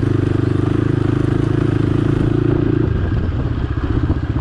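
A Bajaj Dominar 400 motorcycle being ridden, its engine droning loud and close with a steady pulsing thump, then shifting to a rougher, lower rumble partway through; no talk.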